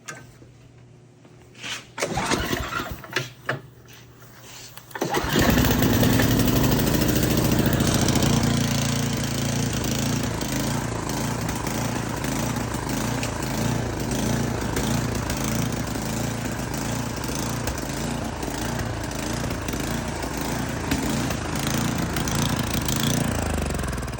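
A small engine, just repaired with a new shear pin, is cranked with a few rough bursts. It catches after about five seconds and then runs at a loud, steady idle. No one speaks.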